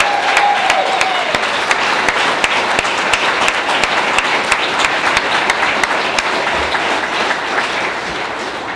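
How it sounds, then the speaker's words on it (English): A town hall audience applauds in Thunder Bay, Ontario, with a dense, loud, sustained burst of clapping from many hands that holds steady for several seconds before easing slightly. "ladies and gentlemen, a very warm round of applause for Dr."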